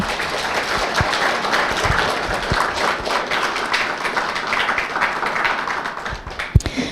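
An evening gathering's audience gives a round of applause to thank a project collaborator named Deb, with steady moderate clapping that continues throughout and a sharp tap near the end.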